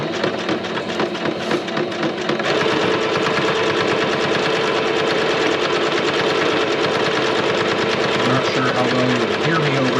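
A sewing machine stitches a thread pattern onto memorial album page spreads, running steadily and loudly for the whole stretch with a continuous mechanical whir.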